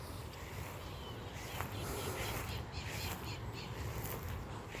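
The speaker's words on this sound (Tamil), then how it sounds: "பறவைகளோட சத்தமும் இருக்குது, சத்தமாக இருக்குது." Birds call and squawk from somewhere outdoors, several voices overlapping against a steady, noisy background of wind or rustling.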